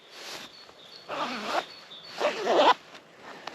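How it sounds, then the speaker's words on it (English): A zip on the pocket of Fjallraven Vidda Pro trousers is pulled in three quick close rasping runs, each louder than the last, with no talk. "It's just a zip, as you can see."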